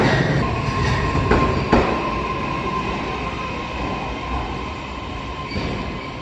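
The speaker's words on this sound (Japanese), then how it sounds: "すぐ電車が来ますね。" A train rumbles into Utsunomiya Station on the Tohoku Main Line with a steady low roar, a thin wheel squeal and a couple of metallic clacks, no one speaking.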